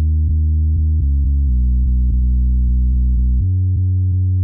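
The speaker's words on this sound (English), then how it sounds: "Let's go to the sub bass now." A sub bass synth built from a single filtered sawtooth, played for a track: a smooth, deep sustained tone that steps between a few held notes, steady and loud with no voices.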